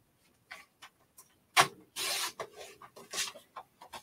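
Cardstock sliced on a paper trimmer, producing a few short rasping scrapes and clicks followed by a longer steady rubbing cut and more brief rasps, close and fairly quiet, with no talking.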